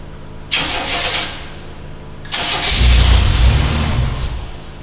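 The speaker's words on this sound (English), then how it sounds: "we're going to spin the motor over so that the pump can fill the lines" A Buick Grand National engine cranks for about a second and stops, then cranks again and catches, settling into a loud, rough idle close by.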